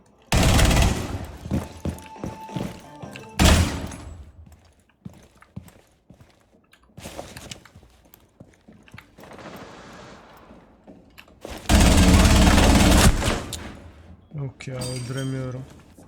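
Gunshots in Rainbow Six Siege, a tactical shooter: several sharp loud bursts of gunfire separated by quieter in-game noise, including a long sustained volley near the end, with a voice speaking in between.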